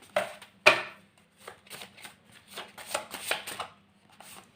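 Tarot cards are pulled from a deck and laid down during a reading, giving soft papery slides and snaps. Two sharper flicks come early, then a scattered run of quieter rustles close by.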